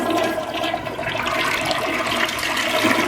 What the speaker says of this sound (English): I'll flush it.